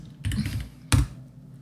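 Java code is typed on a computer keyboard in two short, close bursts of key clatter with a brief pause between them, and no voice over them.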